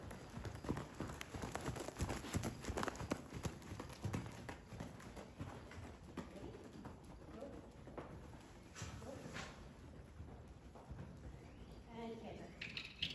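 Horse named Nugget cantering in an arena, hoofbeats thudding in a steady rolling rhythm at moderate distance, with a rider and others talking over it.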